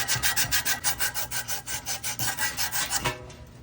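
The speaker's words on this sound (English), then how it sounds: "Then you sand all that buildup." Abrasive sanding scrapes rust buildup off the metal shaft of a blower motor in steady, rhythmic back-and-forth strokes, close and loud with no talking, easing off at the end.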